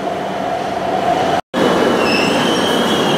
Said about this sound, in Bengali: ট্রেন আমার পাশ দিয়ে বেরিয়ে যাচ্ছে